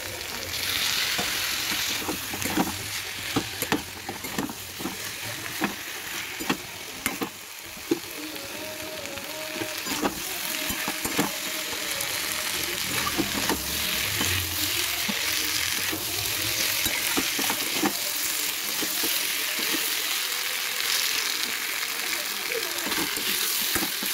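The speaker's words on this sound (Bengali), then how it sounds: "ভালো করে মশলাটাকে মিক্স করে নেব" Spice masala frying and being stirred in a pan for a rohu fish head curry, with a steady loud sizzle and scraping of the spoon throughout, and occasional voices over it.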